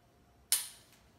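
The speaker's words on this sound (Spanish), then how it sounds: "Esto es disparo en seco." One sharp, crisp click of a pistol trigger being dry-fired snaps out in a quiet room, then fades quickly.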